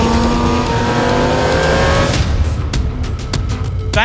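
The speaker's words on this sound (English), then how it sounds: "That muscle car needs to sound like that traditional muscle car." A muscle car's engine revs hard and loud close by, its harmonic roar sweeping upward before breaking into sharp, rapid blips and crackles toward the end, with no voices over it.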